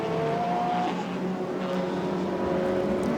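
Historic touring race cars at Silverstone, including BMWs, Sierra Cosworths, a Nissan, 1960s Lotus Cortinas and a BMW 2002, roar past in a loud, steady wash of engine noise with brief tire squeal.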